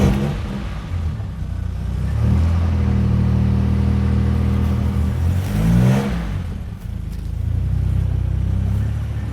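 An all-original Ford Capri Brooklands 280 engine revs in a series of loud, close swells and dips, with a deep rumbling tone throughout.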